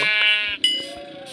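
A sheep bleating in a dinosaur-world survival video game, one short, close, wavering cry lasting about a second.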